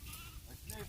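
A sheep from a flock of about 250 gives a brief, faint bleat heard at a distance within a second of quiet farm ambience.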